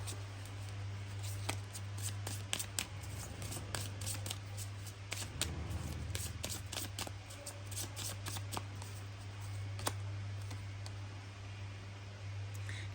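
A tarot deck is shuffled in repeated soft riffling and tapping bursts over a steady low electrical hum, faint and close, with no talking.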